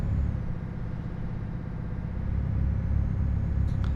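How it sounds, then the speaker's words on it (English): A truck engine in Euro Truck Simulator 2, heard while driving in the Scandinavia expansion, gives a steady, close, low rumbling drone with slight fluctuations and no talking. "it's kind of nice to hear your truck."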